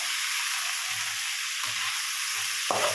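Eggplant sautés in a pan for vaangi bhaat, giving a steady, loud, close sizzling hiss with a few soft low stirring bumps and no voices.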